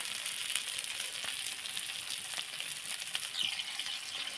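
Bagda fish (bombay duck) fries in a pan after being flipped, giving a steady, close sizzle with soft crackles and pops throughout, with no talking.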